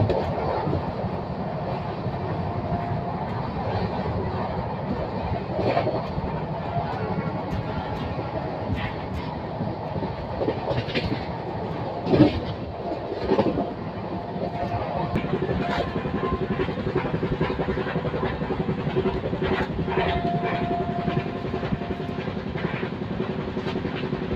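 A passenger train on the Pune to Kurduwadi line runs fast, heard from on board as a steady rolling rumble with faint rhythmic wheel clacks and occasional rattles, the noise holding even throughout.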